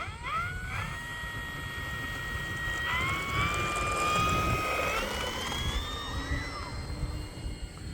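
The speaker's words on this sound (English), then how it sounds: "Super smooth, scale looking takeoff." An E-flite Focke-Wulf Fw 190A 1.5m RC model plane takes off, its electric motor whining steadily and rising in pitch as the throttle increases, over outdoor wind noise.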